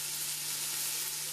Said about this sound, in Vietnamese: Thu Hồng cho thịt vịt vào xào xanh lên